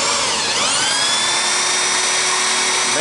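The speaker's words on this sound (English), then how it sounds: "I'm just using the old broken drill bit I got and going sideways, and I'm just running it right in that groove." A drill fitted with a broken bit is run sideways to cut a groove in a car part during a Foxbody evaporator core replacement. It gives a loud, steady high-pitched whine that dips briefly and then holds constant.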